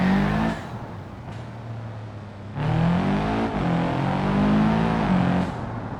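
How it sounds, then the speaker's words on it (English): A car engine in the BeamNG.drive driving simulator hums steadily, then climbs into a louder rising rev with shifting pitch, close and continuous throughout. "Yeah, the engine sound is so much better."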